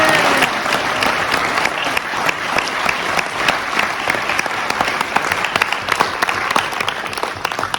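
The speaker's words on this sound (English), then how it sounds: "I think they all deserve a huge round of applause." An audience claps loudly and steadily at the Oxtrail auction finale, a dense roomful of applause that holds strong from start to finish with no talk over it.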